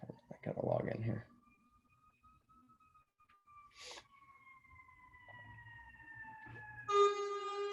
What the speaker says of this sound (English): apologies, I have siren going by